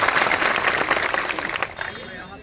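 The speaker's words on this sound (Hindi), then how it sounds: "तो जोरदार ताली बजाओ जरा।" Applause from a crowd at an Adivasi community gathering, a dense wash of clapping that holds steady for about two seconds and then thins out, with voices talking and murmuring underneath.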